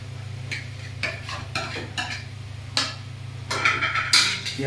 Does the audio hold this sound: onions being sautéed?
yes